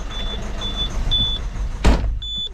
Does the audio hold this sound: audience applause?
no